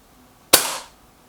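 A single Benjamin Akela air rifle shot: one sharp, loud crack with a quick decaying tail, alone against a quiet background.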